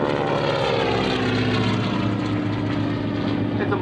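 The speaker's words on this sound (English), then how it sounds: "It's a modified BT-13, a multi-vibrator with the R985 Pratt Whitney up front, 450 horsepower, pulling this valve through the air." A modified BT-13 airplane with a 450-horsepower Pratt & Whitney R985 radial engine, rebuilt as a replica warplane, gives a loud, steady propeller drone throughout, as if passing close by.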